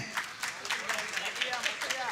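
Applause at a Swaminarayan religious festival gathering, many hands clapping in a steady dense patter that rises and falls, close and moderately loud, with no voices over it.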